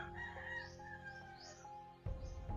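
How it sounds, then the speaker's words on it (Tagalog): Several chickens and a rooster on a rural farm crow and cluck in a drawn-out, rising call that carries from mid-distance, followed by a louder, closer burst of clucking near the end. "Marami talagang manok ito."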